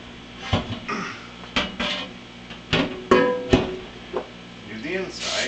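A cast iron wok being seasoned is flipped over, giving several sharp metallic clanks and thuds with a ringing tone, heard close and mixed with some voice sounds.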